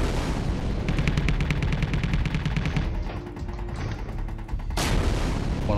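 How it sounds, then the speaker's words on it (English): Rapid automatic gunfire from a weapon in the space game Space Engineers, a loud sustained burst of evenly spaced shots that breaks off partway, followed by a sharp blast near the end. "Oh, you're getting shot from behind you."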